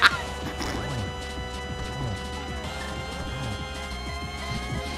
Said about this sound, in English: Get those cymbals crashing.